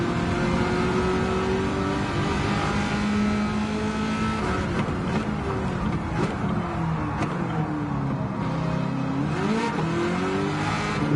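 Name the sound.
race car engine in Gran Turismo 7 video game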